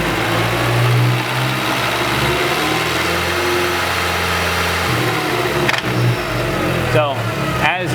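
An Audi TT Quattro 1.8T idles with a failing dual mass flywheel, its steady engine hum running throughout while a voice talks over it and a few sharp knocks come near the end.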